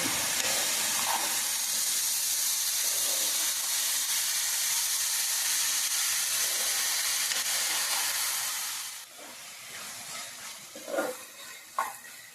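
Coconut and sugar boiling and sizzling in a pan for coconut laddu, a steady loud hiss that fades and gives way to stirring scrapes and clinks near the end.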